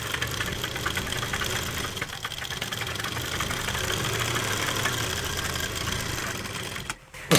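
A sewing machine runs steadily while stitching the seam of umbrella palazzo pants, a continuous close mechanical whir with a fast rhythmic needle pulse, then a brief stop near the end.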